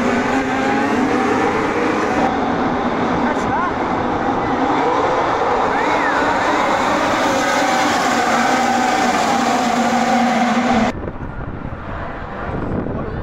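Formula 1 cars starting a race at the Shanghai circuit, a dense continuous engine roar heard from a distance through wind noise, with rising whines passing, before the sound drops off abruptly.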